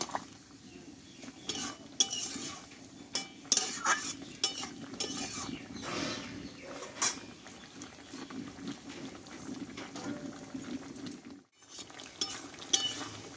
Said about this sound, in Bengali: গরম মশলাটা দিয়ে আমি একটু নাড়াচাড়া করে নেব